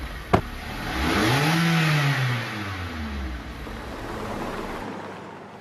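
A GWM car pulls away nearby after a short sharp click, its engine rising in pitch as it accelerates and then easing into a steady driving hum.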